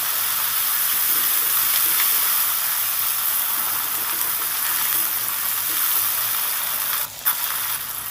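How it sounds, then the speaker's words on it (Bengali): Chopped green chilli and tomato fry in a pan with a loud, steady, close hiss and sizzle that barely changes, with one brief dip near the end and no voices. "এবার একসাথে একটু হালকা হালকা করে ভেজে নেবো"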